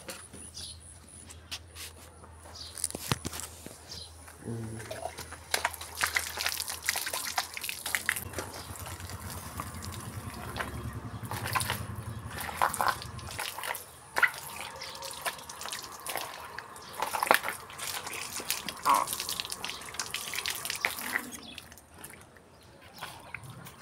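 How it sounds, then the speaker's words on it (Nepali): An opened outdoor tap runs water for washing feet during rice-field work, a steady, close splashing gush with drips that continues throughout, alone, with no talk. "त्यसको लागि म पानी खोल्न आएको छु यहाँ"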